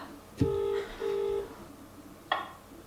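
Telephone keypad tones beep while someone dials a phone to call Domino's: a thump, then two steady sustained tones, a pause, and another short tone, fairly quiet in a hushed room.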